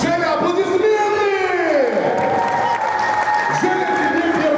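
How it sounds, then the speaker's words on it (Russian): An audience applauding at a Russian stage event, a steady wash of clapping with some cheering, mixed with a loud voice and sweeping musical tones over it. "Женя, аплодисменты"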